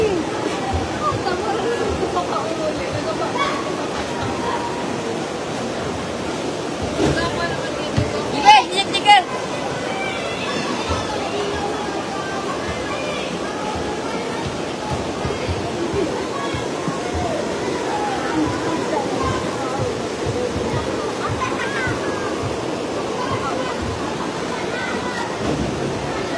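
Rushing flash flood water roaring through a river channel in Masarawag, Guinobatan, Albay, Philippines, a steady dense torrent filling the whole clip with brief louder splashes near the middle.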